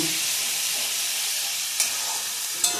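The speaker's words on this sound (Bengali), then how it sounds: "এবার আমি এটাকে তেলের উপরে কমিয়ে গ্যাসটা কমিয়ে দেব শুকানোর জন্য" Ghetkol paste fries in oil on a low gas flame, giving a steady close sizzling hiss throughout with a couple of faint clinks of stirring.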